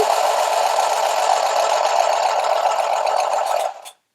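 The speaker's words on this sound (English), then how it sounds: "when I put my fabric under the needle and I go to sew" Handheld sewing machine running on fabric without stitching, a loud close continuous buzzing rattle for several seconds that then winds down and stops.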